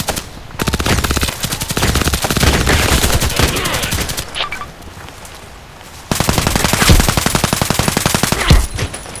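Rapid automatic fire from a KAC PDW rifle in the shooter game Contract Wars, two long loud bursts of gunshots separated by a short pause, close and dominant.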